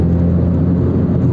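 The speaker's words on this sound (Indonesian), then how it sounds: "Tapi emang sensasi dari suara knalpot, suara ya suara sistem pembuangannya itu" A Toyota FT86 exhaust gives a loud, close, steady engine drone with a low rumbling growl, continuous for the whole moment and heard alone.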